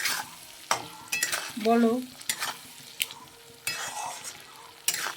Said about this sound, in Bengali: আজকে আমি এই যে মাংসটা রান্না করছি একদম অন্য রকম